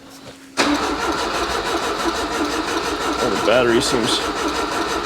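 The engine of an abandoned Volvo P1800 field find, parked for 25 years, suddenly cranks and catches. It then keeps running with a steady, rough mid-pitched drone, close by, while people talk over it.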